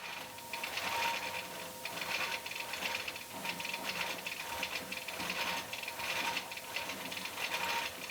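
A domestic sewing machine stitches a quilt border with a steady, rhythmic mechanical whir and clatter of repeating needle strokes, close and moderately loud, with no talking.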